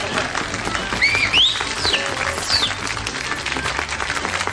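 A studio audience claps and cheers for a game show host as he comes on, a steady wash of applause under a few whistles and scattered voices.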